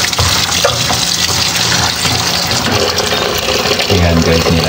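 Water pours steadily into a pot for washing, a loud, continuous gushing fill heard close up for the whole stretch with a low hum underneath.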